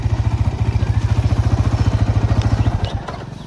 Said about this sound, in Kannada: ನೋಡಿದರೆ ಸೈಡ್ ಸ್ಟ್ಯಾಂಡ್ ಹಾಕತ್ತೀನ ಗಾಡಿ ಆಫ್ ಆಯ್ತು.